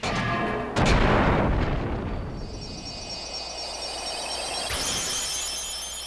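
A big burst of explosions from the Kingdom Hearts Final Mix video game, a boss-fight blast in the Guard Armor battle: a heavy boom near one second rolling into a long rumble, with a second bright hit near the end over shimmering game tones.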